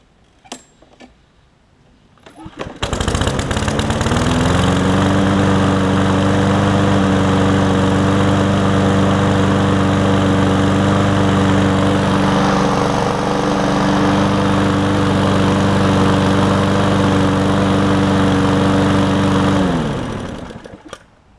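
A 2020 Powersmart self-propelled push lawn mower starts after a brief quiet moment, then runs at a loud, steady, buzzing drone close by for about seventeen seconds before it winds down and stops.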